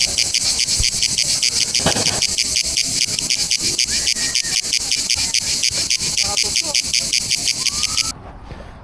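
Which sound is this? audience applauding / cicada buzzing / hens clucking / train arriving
cicada buzzing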